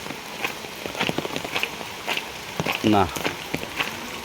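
Rain falls steadily on an empty village road beside a flooded canal, a soft continuous patter with scattered drop hits, while a voice speaks briefly over it.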